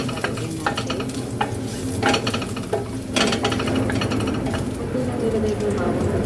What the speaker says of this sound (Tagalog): Ilagay na natin yung bawang first.